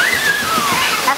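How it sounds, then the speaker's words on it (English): A steady wash of falling water from a waterfall at the San Diego Zoo, loud and close. A high whistle-like tone drifts over it. "And a waterfall."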